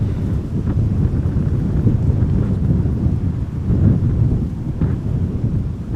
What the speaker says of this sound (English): there is a Dreamliner coming